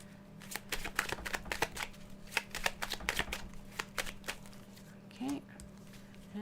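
Close, brisk shuffling of tarot cards in repeated riffling bursts, with a brief voice sound near the end.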